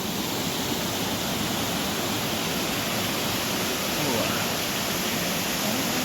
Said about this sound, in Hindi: देखिए दोस्तों, झरने का व्यू।